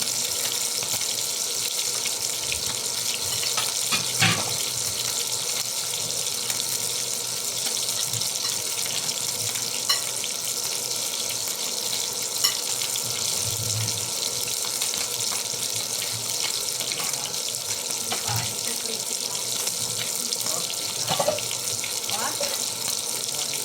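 Running tap water pours steadily into a sink while squash, eggplant and spinach are washed, with occasional knocks and splashes against the continuous flow.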